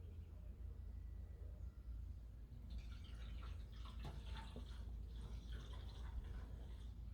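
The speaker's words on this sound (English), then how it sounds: "So I'm going to pour the old petrol out." Old petrol from a Honda SS50 moped is poured into a glass container, a faint trickling, splashing liquid sound starting partway through under low background noise.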